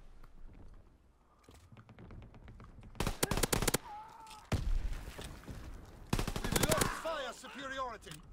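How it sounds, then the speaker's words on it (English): Call of Duty WW2 machine pistol fire comes in two rapid full-auto bursts, loud and crackling, with quieter game sounds and faint talk between them. "Not doing too bad though with the machine pistol."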